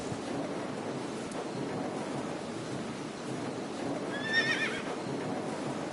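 A horse whinnies once in the video game Ai: The Somnium Files, a short rising-and-falling neigh near the end, over a steady wash of background noise.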